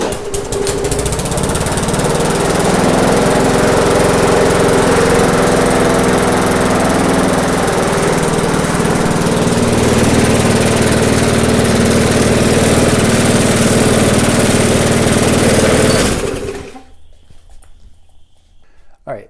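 A neglected, rusty MTD lawn mower engine runs loud and steady close by for about sixteen seconds, its rough droning roar holding even before cutting off abruptly into near silence.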